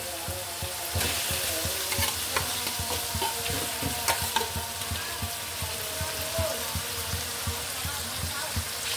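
Chicken meat hits a pan of cooked-down tomato spice masala and sizzles steadily and loudly, with frequent stirring scrapes over the continuous frying hiss.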